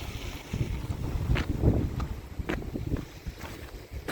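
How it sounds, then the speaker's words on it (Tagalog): Strong wind gusts roar and buffet the microphone, with a few sharp rustling bursts over a steady low rumble. "Mahangin siya guys. Blowing snow."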